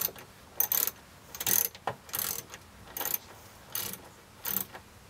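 Ratchet socket wrench tightening a car tail light fitting, giving short bursts of clicking at an irregular pace, close and fairly quiet with pauses between strokes.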